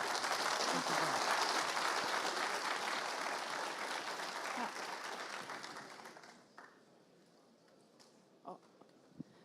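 Audience applause welcoming a speaker onto the stage at the NorthSec 2025 security conference, dense and steady for about six seconds before fading into a few scattered claps and small thumps.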